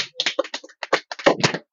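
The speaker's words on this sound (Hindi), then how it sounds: "और कीर्ति के लिए सभी बच्चे जोरदार तालियां बजाओ अच्छे से।" Schoolchildren in a classroom clap for a classmate, a short ragged burst of hand claps striking in quick uneven succession with no voices over it.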